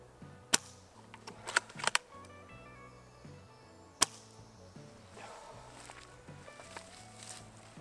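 A Silverback TAC 41 airsoft rifle fires BBs at a G-Shock watch, producing a few sharp, loud cracks and impacts: a cluster of quick shots early on, then a single crack a couple of seconds later, over a quiet hum.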